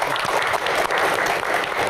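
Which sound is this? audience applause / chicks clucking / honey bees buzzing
audience applause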